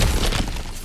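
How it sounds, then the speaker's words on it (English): A breakable object is smashed in God of War Ragnarök, a dense crashing burst with debris that fades out over a second, loud and close, with no talk. "back to smashing through things for fun and profit"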